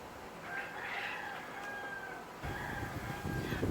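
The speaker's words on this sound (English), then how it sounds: "Please don't mind the chickens in the background." Chickens clucking and crowing faintly in the background, drawn-out calls rising and falling over quiet ambient noise.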